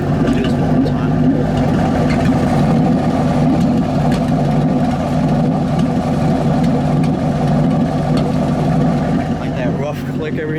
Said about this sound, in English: that rough click every now and then, that's definitely a misfire